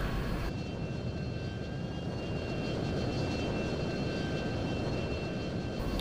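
Steady jet engine roar from an F-22 landing on autopilot at an airfield in the flight-sim game F22 Total Air War, a continuous broadband rumble with a faint whine, even loudness throughout, no talk.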